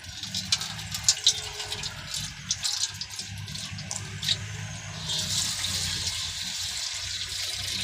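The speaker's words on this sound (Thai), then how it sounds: "ใส่น้ำกะทิ มาต้มน้ำกะทินะครับ" Coconut milk poured into a pot for boiling gives a wet liquid splashing and gurgling, first broken and uneven, then a steady continuous pour for the last few seconds, close and fairly loud.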